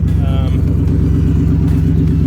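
A car engine runs steadily while driving, a continuous low rumble with a rhythmic pulsing drone that stays loud and close throughout, with no break.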